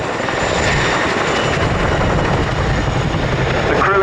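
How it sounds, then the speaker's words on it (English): A loud, steady Chinook helicopter roar with a throbbing rotor blade-slap beat close by, continuous throughout with no voices. "Forget the revs of F1, CJ, the best noise in the world is that bit of blade slap."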